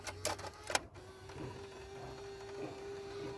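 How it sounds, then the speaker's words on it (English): Blaupunkt CD changer in the boot of a Rover 45 whirring mechanically as it retracts and ejects its cartridge, with a few clicks at the start followed by a steady motor drone. "You'll hear it retract, and the little cartridge ejects out like that."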